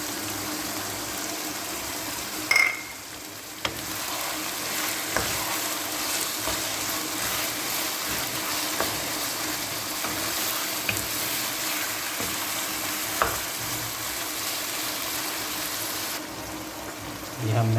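Chopped tomatoes, green chillies and chicken liver frying and being stirred in a kadai, a continuous sizzle with occasional scraping knocks of the spoon.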